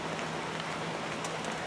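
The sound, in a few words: rain falling outdoors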